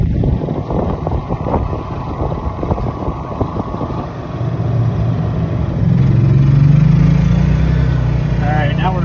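Hybrid electric golf cart with an onboard generator driving along, a steady motor hum and wind rush that grow louder and deeper partway through, with someone talking over it.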